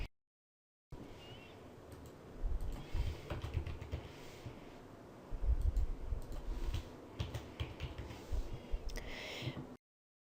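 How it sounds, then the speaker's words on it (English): Typing on a computer keyboard while entering slide text in SongShow Plus software: soft, irregular bursts of key clicks at close range, with pauses between runs. "type in some text."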